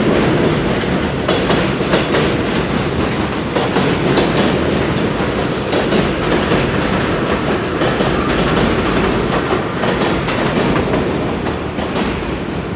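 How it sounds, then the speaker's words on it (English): An elevated train in Brooklyn, New York City, passes close by with a loud, steady roar and rhythmic clickety-clack of wheels on the rails, with no talk over it. "It's just an elevated train."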